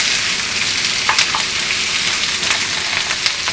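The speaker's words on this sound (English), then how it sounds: "Can you hear that sizzle?" Continuous crackling sizzle of fish frying in hot oil, close and steady, with occasional sharper pops rising above the hiss.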